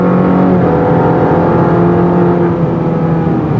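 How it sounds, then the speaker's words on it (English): A 2020 Cadillac CT-4 sedan with a 2.7L turbo engine accelerates on the road, a loud, continuous engine drone with a steady pitch heard from inside the car, with no voices. "this engine's a lot more lively than the numbers would lead you to believe"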